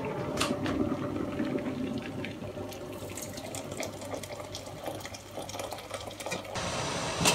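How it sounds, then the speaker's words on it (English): Steady boiling water pours and splashes into a pan, about a liter, a continuous hissing wash with a few clinks, nearby and moderately loud. "I'm putting a liter of boiling water in the pan."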